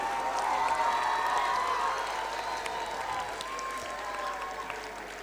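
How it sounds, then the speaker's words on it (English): Children and parents in a school auditorium clap together at an acknowledgements ceremony, a steady wash of applause with faint voices and some shouting mixed in. "Children, please clap."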